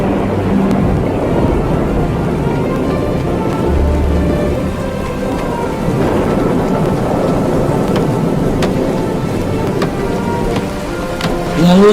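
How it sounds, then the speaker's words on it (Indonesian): Heavy rain pours steadily as a sound effect, a dense constant hiss with occasional low rumbles of thunder and sharper crackles, loud and continuous throughout. "Lalu turunlah hujan,"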